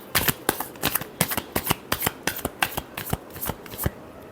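Tarot cards are shuffled close by in quick, crisp riffling bursts, a dozen or so sharp flutters in an uneven rhythm.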